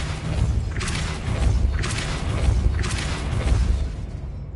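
Depulso spell cast in the Hogwarts Legacy video game, heard as three evenly spaced whooshing bursts over a steady low rumble, loud and close.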